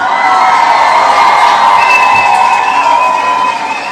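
A crowd cheering and whooping after being called to applaud at a live show, a loud, sustained roar of voices with high shouts rising above it, tapering slightly at the end.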